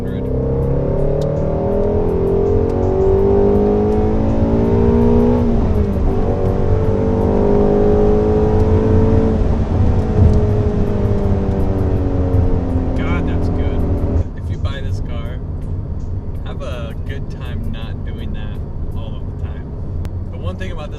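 A Shelby GT350's 5.2-liter V8 revs hard toward 8,200 rpm, the loud, close engine note climbing steadily in pitch before easing off to a lower, rougher drone.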